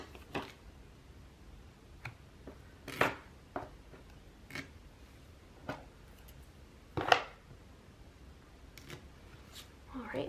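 Scissors snipping washi tape at a desk, with scattered quiet cuts and clicks spread across the stretch, a couple of them sharper and louder, in a quiet room.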